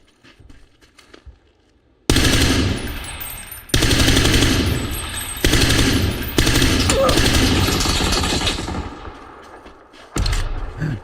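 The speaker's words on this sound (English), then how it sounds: "they're shooting at me back" Loud, close gunfire from the video game PUBG bursts in long rapid volleys with short gaps between them, separated by brief quieter stretches.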